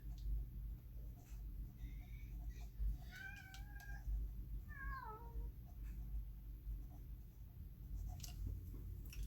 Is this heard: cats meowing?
yes